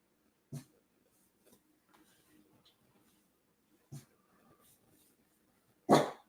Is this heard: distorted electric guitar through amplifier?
no